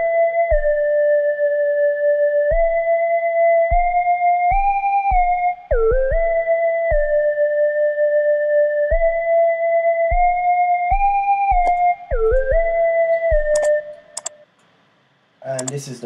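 An FL Studio sample beat: a sustained choir-preset melody from the classical and orchestra category glides between notes over regular kick-like clicks, then breaks into a brief burst of crackly noise near the end.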